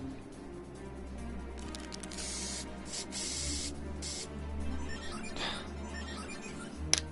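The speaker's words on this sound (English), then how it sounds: "Was that spray paint?" Spray paint hissing in FFXIV, a steady, close spray running for several seconds, with short louder bursts and a faint click at the very end, and no voices.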